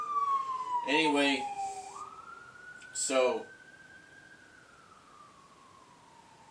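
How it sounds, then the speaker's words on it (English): An ambulance siren wails faintly in the distance outside, one long smooth tone sliding down then up, while a person talks briefly nearby. "sorry about the siren outside there"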